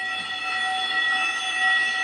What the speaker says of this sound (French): Mais c'est l'alarme incendie.